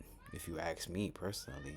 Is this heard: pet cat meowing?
yes